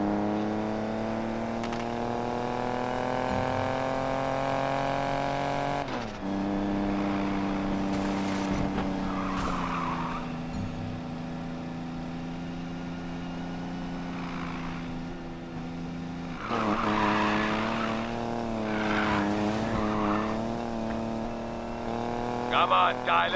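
Cars race in Need for Speed Payback, steady engine drones shifting pitch as they rev and change gear, with brief tire squeals and bursts of acceleration, under intermittent talk throughout.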